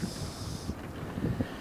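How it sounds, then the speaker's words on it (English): Wind blows across an open truck stop lot, a steady rushing gust with rumbling buffets on the microphone and no voices. "We got a little windy out here."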